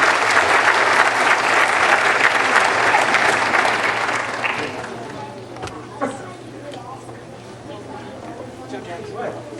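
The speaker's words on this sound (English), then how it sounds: "Let's have a big round of applause for our outstanding young singers, their teachers, and our guest conductor, Ricky Storm Jackson." Audience applause for a children's chorus at a county choral concert: a full, loud wave of clapping that fades after about four seconds into scattered claps and murmuring crowd chatter.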